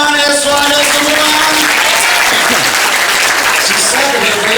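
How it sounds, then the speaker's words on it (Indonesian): Loud, dense applause from students at a school motivation training session, a close wall of clapping that swells after a sustained tone and carries on strongly to the end. "Ikhwan merindukan tepuk tangan Aswada semua"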